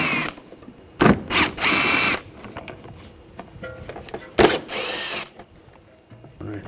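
A ratchet with an 8mm socket backs out inner fender well screws on a 2009-2013 BMW 328i. Two bursts of rapid clicking stand out loud and close against quiet garage background.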